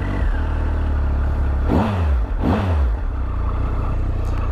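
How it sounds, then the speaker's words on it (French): A Triumph Explorer XC three-cylinder motorcycle engine, a 2017 model, idles steadily with two sharp throttle blips rising and falling in pitch, loud and close, with no talking. "Le bruit du 3 cylindres toujours très distinct."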